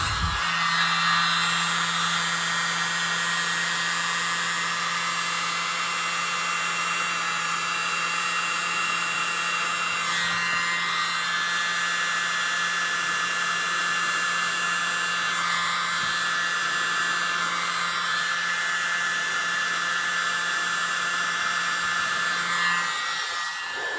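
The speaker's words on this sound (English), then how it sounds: "Gotta use my mini blower." A mini air blower runs continuously over an acrylic paint pour, a steady whirring hum with a constant airy hiss that stays level and close for the whole stretch before cutting off at the end.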